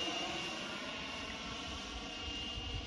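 An HSD L39 model jet aircraft flies at a model flying club, giving a steady, continuous turbine-like roar that holds at an even level throughout, heard from a moderate distance with no talking.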